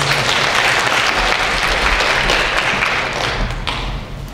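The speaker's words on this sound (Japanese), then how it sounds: "皆さん、拍手でお迎えください。" An audience at a Japanese tech talk on secure development and DevSecOps claps to welcome a speaker, a loud, full burst of many hands that holds for several seconds and then thins slightly toward the end.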